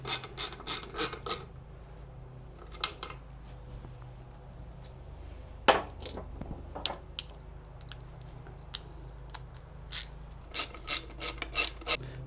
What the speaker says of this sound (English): Now we're just putting the two bolts that attach the lower end unit.